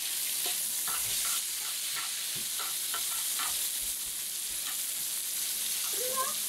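Food frying in a pan for a trailer trash style pizza, a soft steady sizzle with scattered light stirring clicks and scrapes, fairly quiet, no one talking.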